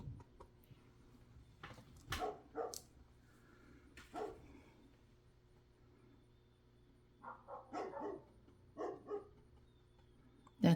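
A puppy barks in short scattered bursts outdoors, some yips close and sharp, others fainter, separated by quiet gaps over a low steady background hum.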